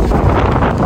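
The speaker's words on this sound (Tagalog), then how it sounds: "Harap ng hangin." Strong wind buffets an outdoor microphone in a steady, loud, broadband roar that holds through the whole short moment with no voices.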